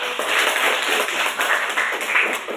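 A school class claps hands together during an Indonesian lesson, a dense, continuous patter of many palms, fairly loud and close, lasting a couple of seconds without talk.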